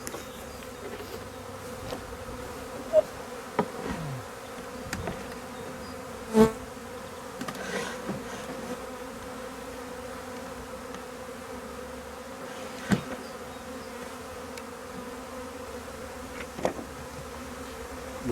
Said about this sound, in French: On voit les abeilles encore en dessous.